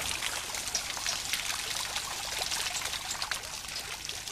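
Water pours and trickles through a water clock's escapement mechanism, a soft, continuous splashing flow with small irregular drips, fairly faint.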